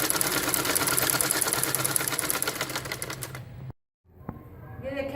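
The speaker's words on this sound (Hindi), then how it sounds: "अब मैं दूसरी बाजू को सिलाई लगा दूंगी" A sewing machine runs steadily as it stitches the sleeve of a peplum short umbrella frock, a fast close rattling drone lasting over three seconds, then stopping abruptly into silence before faint handling clicks and rustles.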